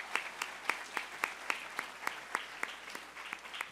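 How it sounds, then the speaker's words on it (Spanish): Sparse, evenly spaced hand claps from an audience at a university sustainability report presentation, quiet and somewhat distant, ringing out one after another in a steady rhythm. "Les pido un aplauso, por favor, para ellos en esta jornada de balance."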